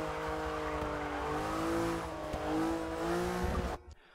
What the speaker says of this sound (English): You're going down to second gear, and now you have to stabilize your car with the throttle a bit.